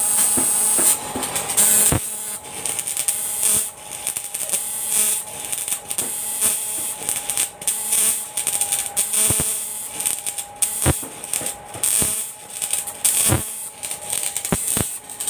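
An argon TIG welding machine strikes its arc by lifting and touching, giving a close, steady high-pitched buzzing hiss broken by repeated sharp crackles and brief cutouts, with no talking.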